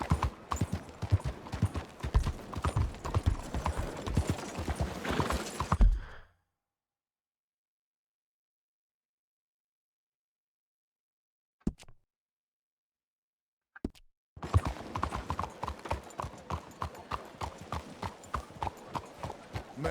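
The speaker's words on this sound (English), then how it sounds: "That sure is a beautiful horse." Horse hooves clip-clop at a steady walking rhythm in the video game Red Dead Redemption 2. The close, clear hoofbeats stop for several seconds of silence, broken by a brief sound or two, then resume at the same pace.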